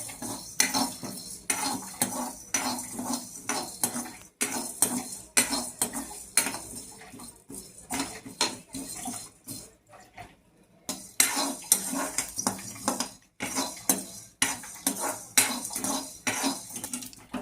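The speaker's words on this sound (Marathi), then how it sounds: "अख्खा धनिया टाकूया आणि थोडा जीरा ॲड करून घेऊया आणि हे आपण भाजून घेऊया" Whole coriander seeds, black pepper and cumin dry-roasting in a metal pan, stirred with a spoon that scrapes and clinks steadily against the pan for the full stretch, broken by a brief pause, close and fairly loud, with no talking.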